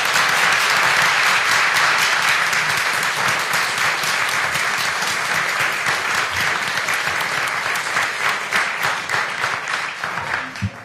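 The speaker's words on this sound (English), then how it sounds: "Please give a round of applause." Dense, steady applause from a concert audience at a spring handbell ensemble performance, sustained and fairly loud for the whole stretch, thinning slightly toward the end.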